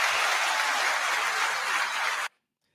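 Warm crowd applause at a retirement ceremony for Derek, leaving the fire department after 27 years, a dense, even wall of clapping that holds for about two seconds and then stops abruptly into silence.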